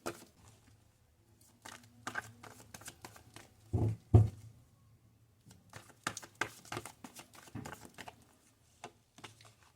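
Tarot cards are handled and shuffled for a reading, with irregular soft riffles and taps in scattered bursts, quiet and close in a still room.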